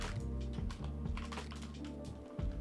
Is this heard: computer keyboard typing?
yes